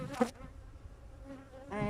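Honey bees buzz around an open hive during frame inspection, a steady hum with louder passes as individual bees fly close.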